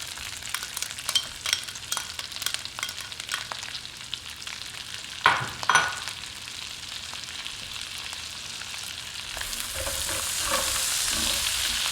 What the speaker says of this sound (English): And I'm going to add our onions. Let those cook down a minute.